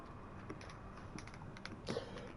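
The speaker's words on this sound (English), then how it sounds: "I need my keyboard." Keys tapped on a computer keyboard during a Train Sim World 5 gaming session, a few faint, scattered clicks at close range with no talking.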